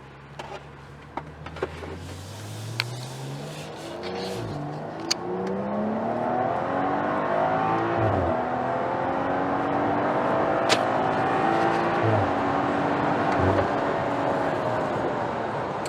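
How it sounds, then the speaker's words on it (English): A 2016 BMW X4 M40i's turbocharged engine accelerates hard, its pitch climbing through several gear changes in a long, sustained pull, with steady road and wind noise. "Even after 70, 80 miles an hour, the car is still pulling without any hesitation whatsoever."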